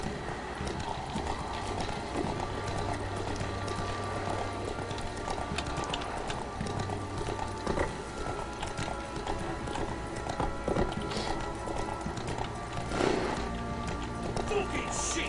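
Horse gallops in The Witcher 3, a rapid continuous clip-clop of hooves throughout with music and game sounds in the background and someone talking over it.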